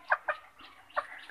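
Native desi chickens on a small poultry farm give a few short, close clucks in quick bursts, with quiet gaps between them.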